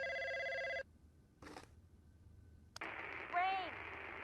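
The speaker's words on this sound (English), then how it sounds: "He's gonna pick up the phone." A telephone bell rings in a steady harmonic burst, loud and close, then stops, followed by static-like noise and a warbling tone.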